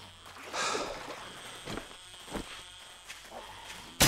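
A bee buzzes in the video game 7 Days to Die, a faint insect drone swelling briefly near the start, then fading under soft scattered noises and a sharp click at the end.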